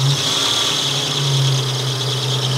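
A 1986 Buick Grand National engine, bought broken out of a storage unit, holds a steady rev under constant throttle, a loud, close, droning roar with an even tone and no talking.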